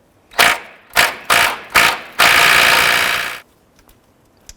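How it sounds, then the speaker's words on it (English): A 15mm socket on a ratchet or impact tool works a rusty upper rear shock bolt loose on a Dodge Durango, with four short loud bursts followed by one longer sustained run, then quiet. "Using a 15mm socket, we'll go ahead and remove this upper bolt."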